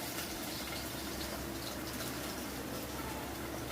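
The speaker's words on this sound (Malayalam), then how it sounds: "ഇതിനകത്തോട്ട് വെള്ളം ചേർക്കാം." Water poured into a fish curry masala of sardines cooking in oil, a continuous close gushing pour that stays loud and steady throughout, with no talking.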